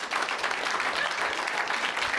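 Comedy-club audience applauding steadily for about two seconds, a dense wash of clapping at a fairly loud, even level with no talking.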